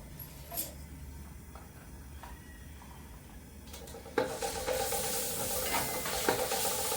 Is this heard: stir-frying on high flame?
yes